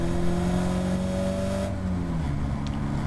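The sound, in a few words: Caterham race car engine at full throttle, Oulton Park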